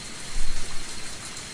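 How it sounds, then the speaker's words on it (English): Heavy downpour in the horror game Higurashi When They Cry: Tatarigoroshi, a dense steady hiss of rain with a low rumble beneath, loud and unbroken throughout. "With the downpour soaking me through"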